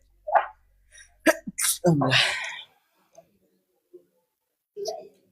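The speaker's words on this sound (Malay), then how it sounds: "Bersin pun." A single sharp, close sneeze bursts out after a few small breathy sounds, followed by quiet pauses and a faint vocal sound near the end.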